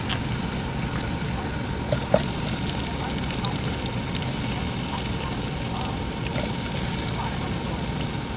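Steady rush of running water as ingredients for pork pancit bihon are washed before cooking, a constant, fairly close wash with no voices.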